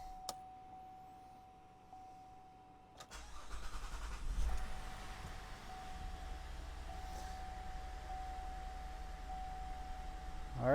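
A 2016 Chevy Traverse engine cranks and starts with a rising roar, then settles into a steady idle, close by, after a faint warning chime.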